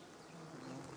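Honey bees hum around a bait hive set out in a garden apiary, a faint, steady, continuous buzz with no other sounds over it.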